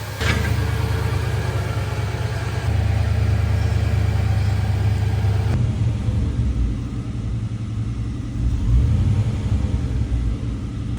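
A rare barn-find Saleen XP8 running at idle after sitting eleven years, a loud, steady low rumble with a slight shift in tone midway, close by and without talk.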